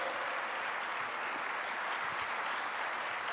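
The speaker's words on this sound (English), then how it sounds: "Sir, please accept this standing ovation." Standing ovation from the audience at a national felicitation ceremony, a continuous, even wash of many hands clapping at steady volume, somewhat distant, with no voices on top.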